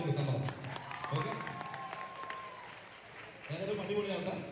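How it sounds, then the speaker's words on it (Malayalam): Applause for young children at a kids' bodybuilding competition in Malappuram, a moderate burst of clapping at the start that thins out, then swells again near the end, with voices talking over it. "ഇവരെ ഈ ഒരു മനസ്സിനാണ് കൈയടി കൊടുക്കാൻ പറഞ്ഞത്"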